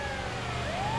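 A wailing ambulance siren in the video game GTA 5 sweeps up and down in pitch over a low engine rumble, fairly faint and continuous.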